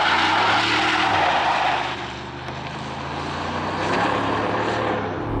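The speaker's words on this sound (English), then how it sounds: "I turned off traction, so we're doing a bit of a burnout." A Ford F-250 Super Duty with a 6.8 liter V8 doing a burnout with traction control off: a loud, sustained engine roar with tire noise that swells, dips slightly, then builds again.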